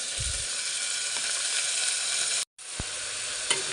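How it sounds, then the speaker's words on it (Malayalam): Onion, curry leaves, green chili and ginger sautéing in a pan for a potato masala curry, giving a steady close sizzle with a short break and a few stirring knocks. "ഉള്ളി പിന്നെ കരിവേപ്പില പച്ചമുളക് ഇഞ്ചി ഇതൊക്കെ ഒന്ന് വാടി വരട്ടെ കേട്ടോ"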